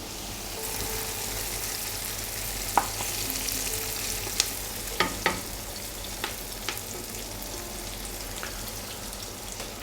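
Onions frying in a pan for a traditional murgh pilau, a steady broadband sizzle throughout with a few sharp clinks of a utensil against the pan, close and alone without talk.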